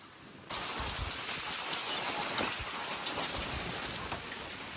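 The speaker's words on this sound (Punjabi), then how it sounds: "ਮੀਂਹ ਫੁੱਲ ਲੱਗਾ" Heavy rain pours down during a Punjab downpour. It starts abruptly as a loud, dense hiss of drops on surfaces and then holds steady to the end, with no voices.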